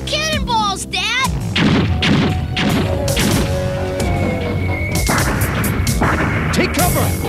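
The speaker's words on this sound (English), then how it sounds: "Those are real cannonballs" Cannonballs fire and crash in an animated adventure scene: repeated booms and smashing impacts under a busy soundtrack, with voices talking over them.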